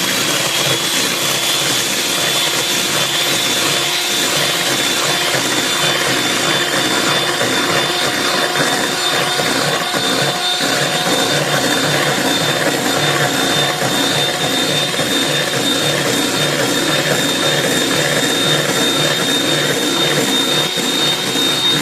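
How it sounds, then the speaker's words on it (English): Electric hand mixer on high speed beating cake batter with four eggs for a vanilla bakery-style cake, a loud, steady whirring motor drone running continuously throughout with no talking. "And you're supposed to use a hand mixer,"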